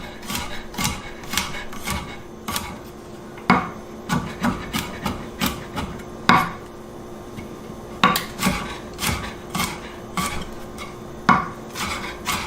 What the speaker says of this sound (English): And then we're going to mince this garlic into nice little